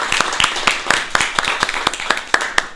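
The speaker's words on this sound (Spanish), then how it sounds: "Démosle un aplauso a los representantes." Applause for student representatives at a municipal council session: a room of people clapping in a steady, dense patter with sharp individual claps, fairly close and continuing throughout.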